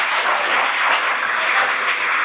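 Sustained applause from a seated audience at a college Kannada department lecture, steady dense clapping throughout without pause.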